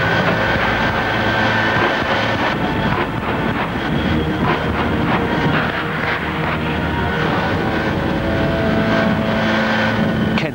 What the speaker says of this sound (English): This truck is powered by three Pratt & Whitney J48 jet engines